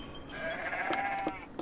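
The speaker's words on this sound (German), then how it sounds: "Die Schafe meckern mich schon aus." Sheep bleat on a farm in the cooperative video game Farm Together 2, a few wavering, nasal baas that overlap close by over a steady low ambient hum.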